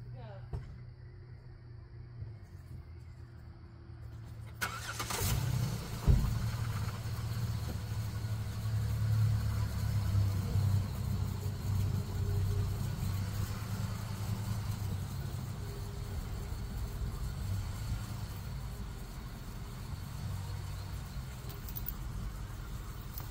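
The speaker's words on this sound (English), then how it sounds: "I'm going to leave this running so I can turn the Jeep on and see what happens." A Jeep engine cranks and catches a few seconds in with a sharp start, then settles into a steady low idle that carries on to the end.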